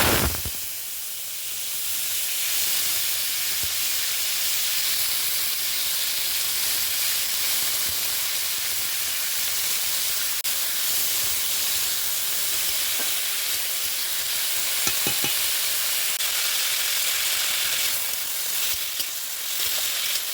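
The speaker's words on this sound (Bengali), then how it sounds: "এখন একটু আলু ভাজবো" Potatoes fry in a pan in a home kitchen, giving a steady, even sizzle and hiss that continues without a break for about twenty seconds, close and fairly loud.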